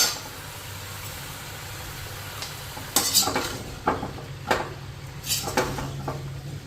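Vegetable curry being stirred in a pot, a low steady kitchen hum under the first half, then a run of distinct clinks and scrapes of a spoon against the metal pot, close and moderately loud, with no talking.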